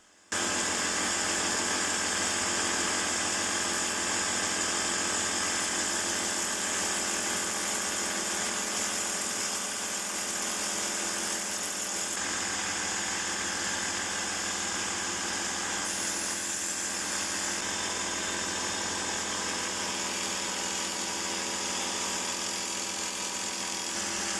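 A belt grinder running a fresh belt against a small twisted damascus dagger blade, a loud, steady high-pitched whine and rasp that holds almost unbroken for over twenty seconds, with slight shifts in tone as pressure changes.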